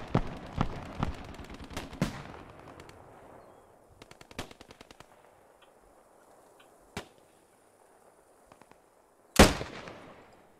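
Gunfire in the World War II shooter Post Scriptum: sharp single shots and short bursts ring out at irregular intervals, some close and loud, others distant and faint, with one very loud shot near the end.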